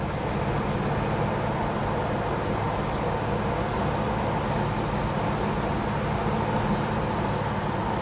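A 1967 Pontiac GTO rolls along and over a bridge, heard from inside as a steady, broadband road and engine rumble with even, unbroken noise from start to finish.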